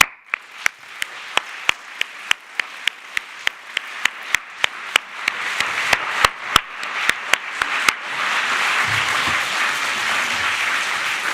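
Literary event audience at the Southbank Centre applauding authors and their translator, first a sparse rhythm of single sharp claps, then swelling into full, dense applause from a large crowd.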